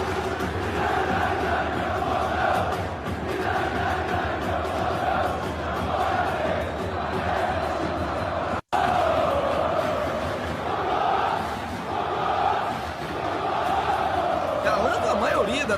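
Palmeiras football fans at Allianz Parque chanting "é campeão", a sustained rolling wall of crowd chanting with rhythmic swells, steady throughout apart from one very brief cut.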